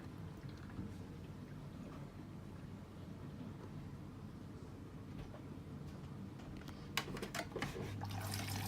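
Water flows steadily into a Samsung Quick Drive WW90M645OPO washing machine during its test mode, a faint continuous rushing hiss with a few soft clicks and a low hum near the end.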